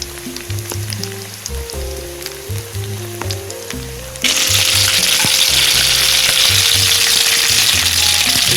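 Flour-, egg- and crumb-coated fish kebab sticks fry in hot oil, a moderate sizzle that swells into a loud, dense, steady crackle partway through, with a tonal hum running underneath.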